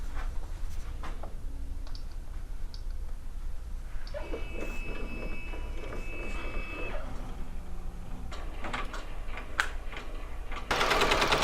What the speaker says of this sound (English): While the machine is embroidering